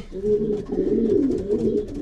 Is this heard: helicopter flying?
no